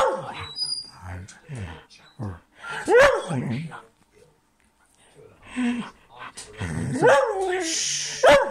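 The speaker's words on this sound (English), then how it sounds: "No barking, stop." A dog barks and whimpers intermittently, close by, mixed with a person talking and shushing over it.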